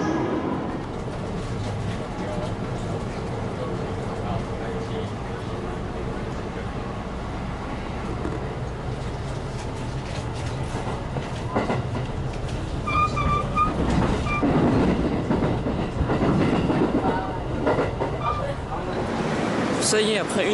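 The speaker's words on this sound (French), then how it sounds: "Là on est près des rails pour pouvoir prendre le train direction Kyoto." A train leaves Osaka station for Kyoto, with a steady rumble of the rail ride heard from inside the carriage, faint squeals and clicks rising near the end, and a murmur of background voices.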